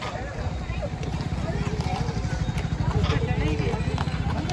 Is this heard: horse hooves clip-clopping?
yes